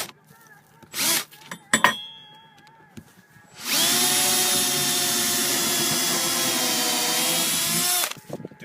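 A power drill bores pre-holes into roof wood for installing flat tile hooks, running loud and steady for about four seconds after a few short clicks and brief test whirs.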